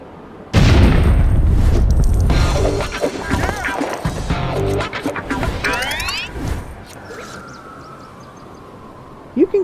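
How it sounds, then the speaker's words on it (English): A dynamite blast in the video game LEGO City Undercover bursts in with a sudden loud boom, followed by rumbling debris, clattering bricks and game effects that fade out over several seconds. "I try to get away from the explosion so I don't die and lose studs."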